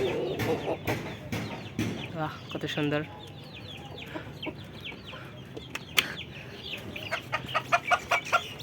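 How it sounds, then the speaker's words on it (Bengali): A flock of large hens and roosters clucks and calls close by, with busy overlapping clucks and a run of sharp rhythmic calls near the end, while a person briefly speaks in admiration. "দেখতে পাচ্ছেন বড় বড় মুরগি এখানে, অনেক সুন্দর সুন্দর"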